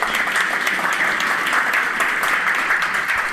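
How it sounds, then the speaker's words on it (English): A crowd at a free and open source software meetup in Kochi applauds the host, dense sustained clapping from many hands filling the whole stretch evenly and loudly. "So A huge round of applause for the host."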